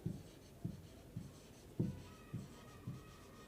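Pen strokes on paper during a chemistry lecture on naming coordination compound ligands, six soft scratchy bursts at an even pace, faint and close with no talking.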